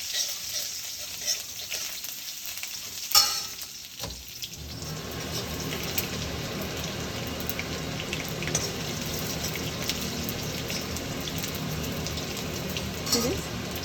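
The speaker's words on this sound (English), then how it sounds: "And after the popping of the mustard seeds, I'm going to add a garlic to it, right?" Mustard seeds and garlic frying in a pan while being stirred, a steady close sizzle with a few sharp pops and scraping knocks near the start.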